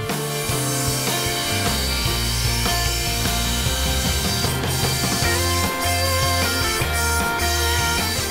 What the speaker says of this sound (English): the meticulous cuts are made in the foam